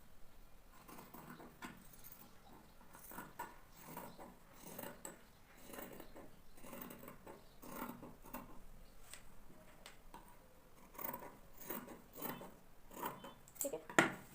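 Scissors cut through blouse fabric while the back piece is cut out, making a soft, quiet series of crisp snips in an irregular rhythm. A brighter metallic clink comes near the end.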